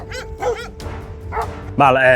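A dog barks and yips at close range in short rapid bursts, ending in a louder, longer howling bark, with a high tone and a person's voice faintly mixed in.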